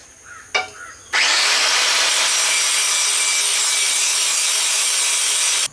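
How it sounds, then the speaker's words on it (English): An angle grinder cleans the face of an axe folded and forge-welded from a truck leaf spring. After a brief knock it spins up into a loud, continuous, harsh grinding roar that holds steady to the end. "Now the next step is going to be just cleaning off the face. As always, got my angle grinder here."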